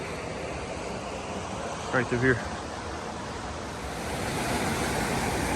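Creek water at a stream crossing in Pisgah National Forest, North Carolina, rushes in a steady, broad wash that fills the whole stretch, with a brief spoken phrase close by partway through.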